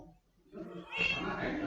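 A tamed cat in Minecraft gives a short meow, its faint opening building into a louder, drawn-out cry that lasts under two seconds.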